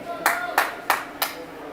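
A crowd at a girls' 14U ice hockey game claps in four sharp, evenly spaced bursts over a faint arena murmur, close and moderately loud.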